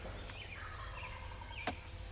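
A wild turkey gobbles at a distance during a public-land hunt by a creek in New York. The faint rattling gobble rolls over a steady outdoor background, followed by one brief sharp click.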